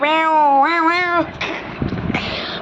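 The Minecraft warden lets out a long, wailing, cat-like screech, loud and close, followed by a few seconds of rougher, noisier game sounds.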